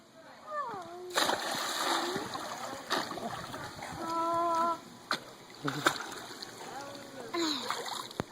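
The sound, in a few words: water splashing from someone swimming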